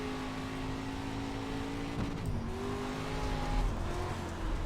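A dirt street stock car's engine drones and revs steadily through a lap of the iRacing dirt track, with tonal engine harmonics that shift in pitch as the throttle is worked, loud and continuous with no talk.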